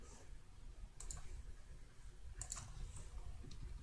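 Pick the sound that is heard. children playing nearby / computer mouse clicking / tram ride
computer mouse clicking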